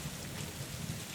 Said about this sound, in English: Upon stepping outside, I'm met with an intense rainstorm.